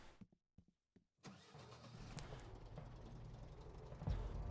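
A new tractor's engine cranks after a few clicks and catches in the Professional Farmer 2014 farming game, settling into a steady mid-pitched idle with a brief rise near the end.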